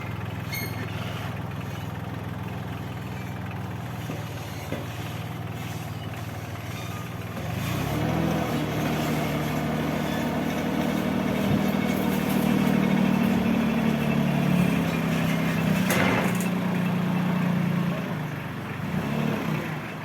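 A tractor engine runs at idle during machinery loading on a farm, a steady low rumble that swells louder and rougher partway through and keeps going without a break, with no talk.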